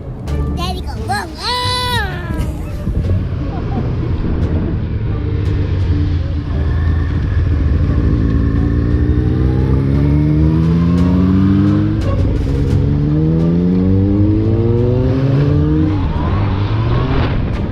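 A Kawasaki 636 and a Yamaha R1 motorcycle racing, engines revving loud and close with rising and falling pitch sweeps as they accelerate, voices talking over the engine noise.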